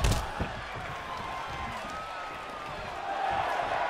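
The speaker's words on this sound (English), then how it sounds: "The sound of this crowd is deafening, and he's asking for more" Roaring arena crowd in the wrestling video game DDT Pro, a dense steady wall of cheering that swells slightly toward the end, with a commentator's voice talking over it.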